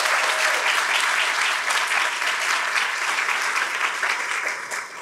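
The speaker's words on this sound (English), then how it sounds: "So if we could give them a round of applause, please." A room full of people applauds at an awards presentation, a dense, even wash of clapping that holds steady and tapers slightly at the close.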